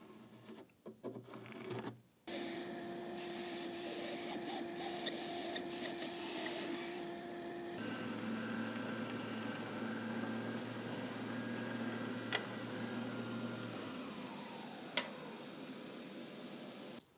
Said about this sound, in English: cut it out on my bandsaw, and again sand it off, refine it on my sander.